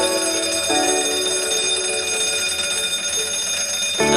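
An alarm clock bell rings loudly and continuously for about four seconds, a bright metallic trill with no talking.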